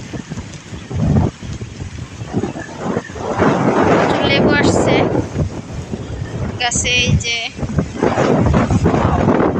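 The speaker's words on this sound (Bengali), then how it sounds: "প্রচুর বাতাস প্রচুর" Strong gusty wind buffets the microphone outdoors in a village during rain, roaring in heavy waves while a person speaks briefly.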